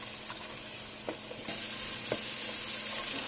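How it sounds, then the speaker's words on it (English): Onions and carrots sauté in hot oil in a pan, giving a steady close sizzle with a few brief stirring scrapes, and no talking. "We're going to saute our onions and our carrots, coat them well with the oil for about 2 to 3 minutes."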